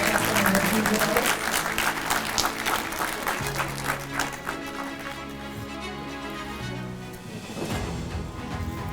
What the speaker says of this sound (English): Can you have a louder round of applause?